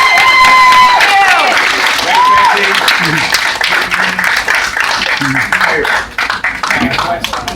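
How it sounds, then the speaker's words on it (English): A loud burst of applause and cheering from a Star Trek fan open house audience, dense clapping with whistles and shouts up front, thinning gradually toward the end. "Let me hear a round of applause, please."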